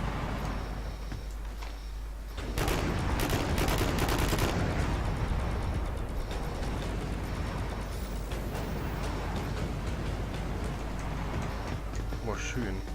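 Sustained gunfire from the video game Warhammer 40000: Eternal Crusade, a dense rattling barrage of overlapping shots that swells after a couple of seconds and keeps going loud and continuous throughout.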